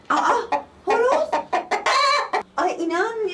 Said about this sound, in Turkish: Aa, horoz.